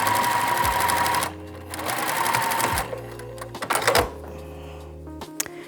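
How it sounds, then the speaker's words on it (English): A sewing machine runs a short back stitch in bursts: a fast whirring run, a pause, a second run, then slower stitches and mechanical clicks, close and clear with no talking. "we will do a little back stitch and sew these together"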